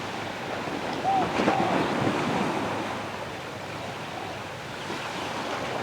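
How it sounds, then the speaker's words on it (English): Ocean waves wash onto the shore at the Gili Islands in a steady, broad surf roar with a slightly louder swell near the start, joined by some wind noise, and no voices. "And listen to the sounds of the waves."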